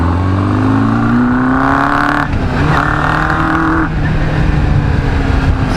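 A 1996 Kawasaki GPX 600R 592cc motorcycle engine revving hard while riding, loud and close, its pitch climbing through the gears with brief dips at each shift and no voices.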